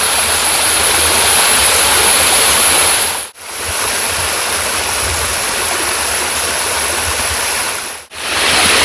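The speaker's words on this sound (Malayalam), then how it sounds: "ഈ ഒരു ചെറിയ ചോലയാണ് ഇവിടെ ഉള്ളൂ കേട്ടോ" A small forest stream near Poomala waterfalls flows and rushes steadily, loud and close, a dense continuous wash of water that briefly dips twice before resuming, with no talking over it.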